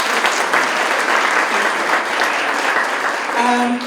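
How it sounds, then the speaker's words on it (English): Audience applause at the 2019 DL Awards ceremony, steady dense clapping from a large crowd filling the room for about four seconds, loud and continuous, with a faint tonal chime near the end. "may you, on my behalf, give them a big hand of applause."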